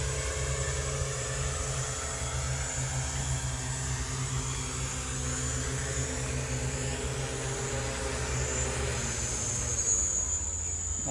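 A fixed-wing multi-rotor aerial survey drone comes in to land, its rotors giving a steady, continuous droning whine that shifts slightly near the end as the throttle is reduced.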